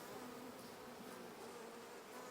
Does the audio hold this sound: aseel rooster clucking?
no